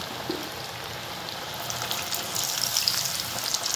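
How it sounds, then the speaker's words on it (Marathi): Kothimbir vadi, Maharashtrian coriander fritters, frying in hot oil with a steady close sizzle and crackle, bubbling getting livelier toward the end, with no voices. "आपण आता तळायला टाकल्या वड्या चांगल्या प्रकारे तळून घ्यायच्या."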